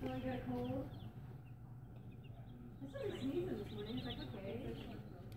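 Chickens cluck and chatter at close range in a hardware store, a busy flock with overlapping calls, under low background rumble and some talking.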